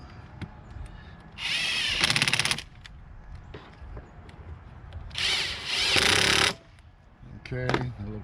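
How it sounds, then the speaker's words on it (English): Power tool tightening 8mm bolts on a Ford 3.5 intake manifold: two loud whirring bursts of a few seconds each, with quieter workshop clatter in between. "Tighten up the 8mm bolts."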